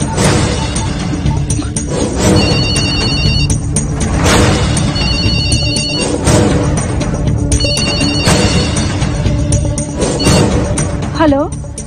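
A phone ringtone chimes in repeated bursts over a busy, loud background of music and noise.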